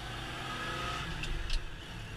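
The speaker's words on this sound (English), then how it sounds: "going first gear super low, second gear," A car accelerating through the gears with its engine drone steady and moderately loud from inside the cabin, and two quick clicks of a gear change partway through.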